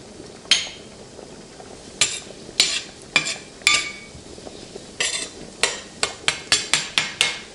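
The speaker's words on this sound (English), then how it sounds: "you'll want to open up a can of diced tomatoes." Someone opens a can of diced tomatoes in a home kitchen while making shrimp pasta, producing sharp metallic clicks and knocks, spaced at first, then a quicker regular run near the end.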